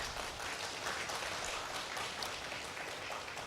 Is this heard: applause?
yes